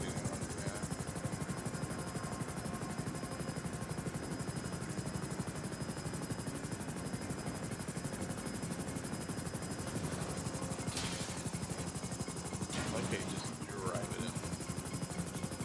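Helicopter landing in the video game GTA V, a steady rapid rotor chop and engine whine throughout at moderate level, with a couple of brief bursts of noise near the end.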